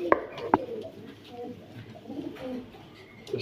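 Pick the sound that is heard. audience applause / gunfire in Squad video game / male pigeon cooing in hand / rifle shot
male pigeon cooing in hand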